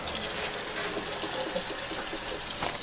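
Very hot water poured from a tap over bread in a colander, a steady loud gushing splash that runs continuously without talk.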